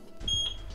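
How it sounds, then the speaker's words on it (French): A Eufy Indoor Cam 2K Pan & Tilt gives a single short, high electronic setup beep, clear and close over faint room noise, lasting about a quarter second. "Le bip est émis"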